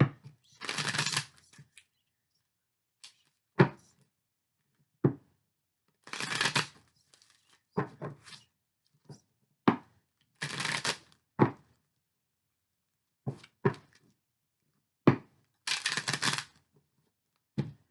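Tarot cards are shuffled for a reading in several close, crisp riffling bursts separated by pauses, with a few soft taps and handling sounds in between.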